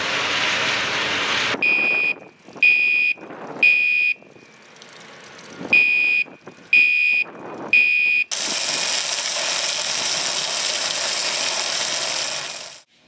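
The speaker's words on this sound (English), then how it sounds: "After 30 seconds or so, the water flow alarm is going to go into action." A hotel sprinkler system's water flow alarm sounds during an inspector's test. Six loud, short, evenly spaced mechanical bursts ring out, then the alarm settles into a continuous loud ring that runs for several seconds before it cuts off.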